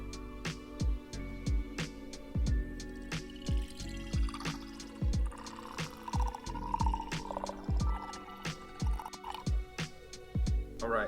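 Hazy mead is poured slowly from a bottle, making a steady run of soft glugs and drips that repeat in an uneven rhythm, close and alone.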